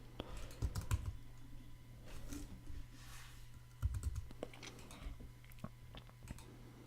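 Typing on a computer keyboard during network troubleshooting, quick bursts of soft close key clicks in uneven clusters over a low steady hum, with no talking.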